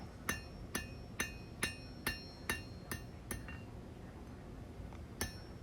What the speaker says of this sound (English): I'm using the round side of the hammer.